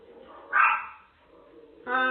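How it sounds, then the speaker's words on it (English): Dogs bark at a stranger on a home security camera, giving two short, sharp barks about a second apart that are fairly close and clear, with no speech. "the dogs are barking"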